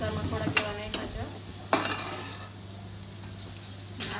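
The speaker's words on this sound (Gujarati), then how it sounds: "લસણવાળી ચટણી, ટમેટું અને બાફેલા ચણા એનો વઘાર કર્યો છે" Garlic chutney, tomato and boiled chickpeas sizzle steadily in hot oil for a home tempering, with a few sharp clinks of a spoon against the pan over the continuous frying hiss.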